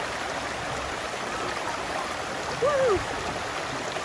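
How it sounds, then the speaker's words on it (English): A creek flows in Spearfish Canyon near a waterfall, a steady broadband rush of water filling the whole stretch, with a short whistle-like voice call rising briefly over it near the end. "gotta cross this creek to get to the waterfall."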